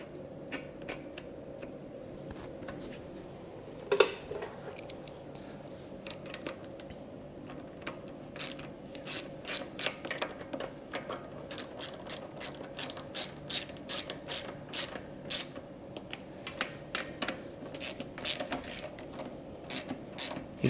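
A ratchet tightens nuts on a Coleman mini bike's HiPA carburetor on a four-stroke engine, giving bursts of quick dry clicking that begin after one sharp clack and repeat steadily up close with short pauses between strokes.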